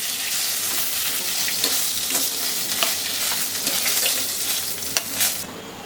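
Fish rubbed with salt and turmeric frying in a pan at home, a steady close hiss and crackle of hot oil running throughout with small popping spikes and no voices.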